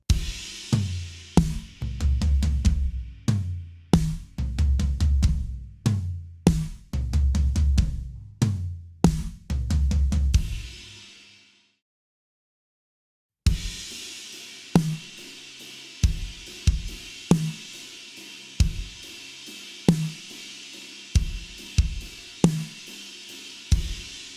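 Drum groove in 6/8 time with punchy kick and cracking snare in a lilting triple-feel rhythm, stopping briefly before resuming with a tighter pattern.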